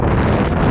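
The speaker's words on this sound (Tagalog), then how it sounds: "Lakas ng hangin" Loud, roaring wind buffeting the microphone aboard a ship nearing port, a continuous low rumble with no other sounds standing out.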